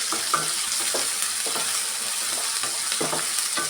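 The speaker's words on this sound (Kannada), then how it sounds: "ಚೆನ್ನಾಗಿ ಆಯಿಲಲ್ಲಿ ರೋಸ್ಟ್ ಮಾಡ್ಕೊಳ್ಳೋಣ" Field beans with coriander and curry leaves frying in hot oil, a constant close sizzle broken by several soft scraping stirs of the pan, no voices.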